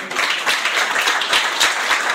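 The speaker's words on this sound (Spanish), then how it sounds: "Denle un aplauso a la madre, se lo merece" Applause from a church congregation honoring a mother after a prayer, steady clapping from many hands filling the whole stretch at a moderate, even level.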